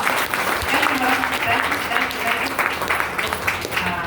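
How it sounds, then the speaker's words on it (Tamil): A dense, steady round of audience applause fills the whole stretch, with a voice talking over the clapping. "நம்ம சார்பில் நல்ல ஒரு கைத்தட்டை கொடுத்தாங்க."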